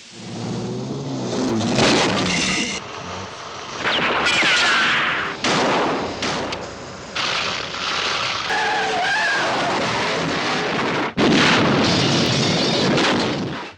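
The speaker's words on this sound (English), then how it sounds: "Oh, explosion!" Loud explosions burst and roar in heavy waves, with gunfire-like blasts and rumbling debris, dramatic and close, from the 1964 film Goldfinger, as a Mercedes is wrecked.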